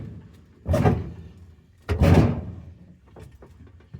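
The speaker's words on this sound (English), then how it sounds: "I got the doors open." Heavy metal doors on a scrap load are swung open, two loud clanking thuds about a second apart followed by softer knocks and rattles.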